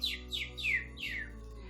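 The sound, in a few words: small bird singing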